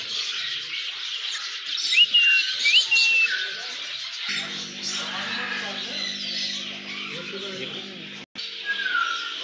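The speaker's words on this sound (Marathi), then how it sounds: "खूप सारे पक्षी आहेत तिथे." Many birds chirp and whistle with a few bright calls standing out early on, all under steady background chatter and a low hum.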